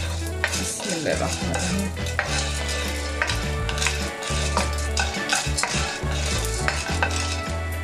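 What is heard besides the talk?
flaxseed mixture roasting on low heat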